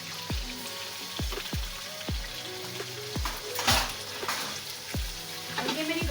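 Chicken fries in a pan as about two tablespoons of ground garlic go in, a steady soft sizzle under a series of sharp clinks and taps at close range, fairly quiet overall.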